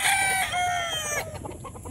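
Stag gamecocks on a game farm cluck and crow loudly at close range, a drawn-out crow followed by choppy clucking calls, with a busy outdoor background beneath.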